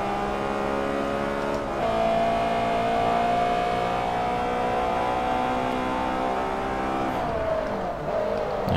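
Race car engine in Forza Motorsport 3, lightweight sports car class, droning steadily at high revs with a brief drop and pitch shift around two seconds and again near seven, as if downshifting, loud and close with no talk.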